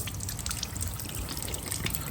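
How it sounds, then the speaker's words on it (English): Water streams and trickles steadily from the bottom of a 2016 Mercury 40hp outboard motor running during flushing, a continuous close splashing flow with no talk. "And we got water coming out this end, so we must be doing something right there."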